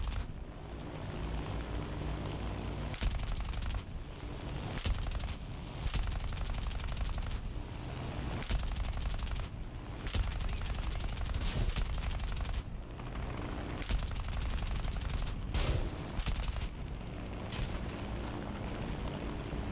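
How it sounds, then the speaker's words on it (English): Aircraft guns firing in War Thunder during high-altitude air combat, loud repeated bursts of rapid automatic fire cracking over a steady engine drone, with short pauses between volleys. "Don't know what else is shooting up here."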